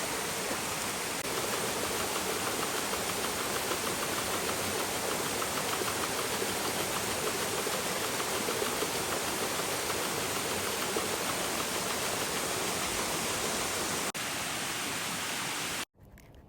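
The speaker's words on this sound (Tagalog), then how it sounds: "Dito may mga maliliit na waterfalls na tinuturo sa atin ng guide." Small waterfalls in a mountain village in Pu Luong give a steady, full rushing hiss of falling water, constant and close, cutting off abruptly at the end.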